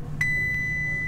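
A Sky Princess cruise ship lift sounds its upward-travel chime: a single clear electronic tone that rings on steadily against a low onboard hum, with a faint second ping midway.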